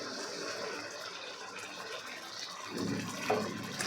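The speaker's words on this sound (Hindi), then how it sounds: "हम इसमें पानी गरम करके डालेंगे" Hot water pours into a pan of fish curry with a steady, close rushing splash that thickens and gurgles louder toward the end.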